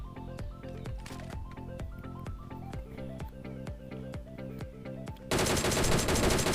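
In a battle royale video game, an enemy is knocked down by a rapid burst of automatic gunfire, sharp evenly spaced shots fired close, followed by a louder, denser rattle of fire at the end.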